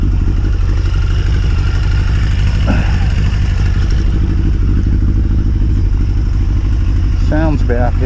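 Yamaha XJ900S Diversion motorcycle engine idling steadily after a carburettor balance, a close, loud, even low rumble with a brief rev blip near the end and faint speech in the background.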